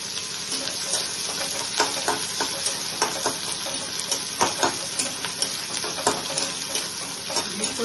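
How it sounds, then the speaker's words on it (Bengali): Grated onions fry in a pan for mutton kosha with a continuous bright sizzle, broken by frequent clinks and scrapes of stirring. The sound is close and steady throughout. "পেঁয়াজ দিচ্ছি, আর একটু লাল করে ভেজে দিচ্ছি।"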